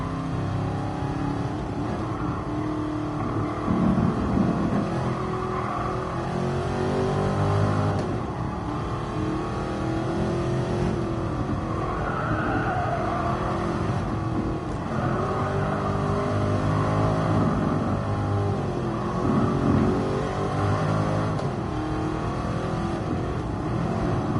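A Mercedes-AMG Black Series car drives around the Nürburgring in a racing video game, its engine droning steadily for a long stretch with rising and falling revs and shifts, no talking over it.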